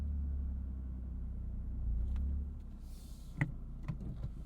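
A 2023 Toyota GR Corolla Core with a manual handbrake backs out of a parking spot, a low steady engine rumble heard from inside the cabin that eases off, followed by a few soft clicks and knocks.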